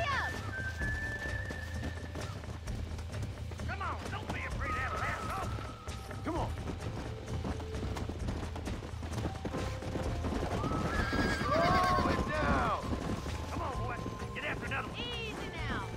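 A horse being broken in the video game Red Dead Redemption: repeated whinnies and neighs ring out over steady clopping hooves and scuffling, with someone talking throughout.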